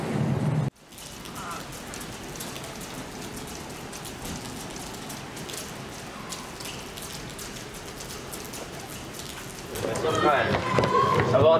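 A heavy rainstorm pours down in a dense, steady roar of rain beating on surfaces, swelling louder near the end, while a voice speaks over it.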